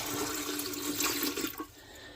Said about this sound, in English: we are going to pour our water in